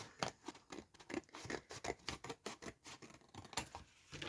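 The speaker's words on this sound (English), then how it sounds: "I grab a scissors and I create what I call a ribbon" Rapid snipping of scissors through paper, a quick series of crisp cuts and rustles, quiet and close.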